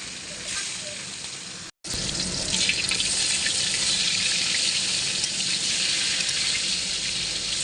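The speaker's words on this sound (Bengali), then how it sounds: "মাছগুলোকে ভেজে নেব।" Fish rubbed with salt and turmeric fries in a pan, a steady broadband hiss and sizzle that briefly cuts out, then returns louder and continuous.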